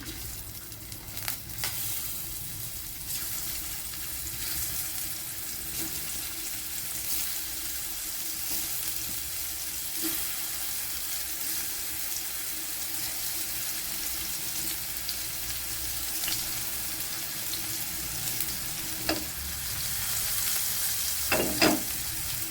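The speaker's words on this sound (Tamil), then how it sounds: "எண்ணெய் சூடாயிருச்சு. இப்போ வாழைக்காயை சேர்த்துக்கலாம்." Raw plantain pieces frying in hot oil in a pan for a Tamil stir-fry, a steady crackling sizzle that carries on throughout, with a few sharp metallic clinks of a utensil near the end.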